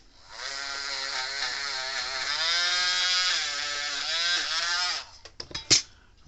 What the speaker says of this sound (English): And then we'll Dremel out, clean that up.